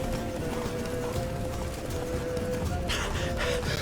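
Horse hooves clip-clopping in The Witcher 3 video game, a running horse's hoofbeats in quick repeated rhythm under a steady low game soundscape with a faint tonal hum, moderately quiet.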